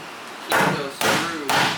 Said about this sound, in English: Just pry the nails that are attached to the framing right here.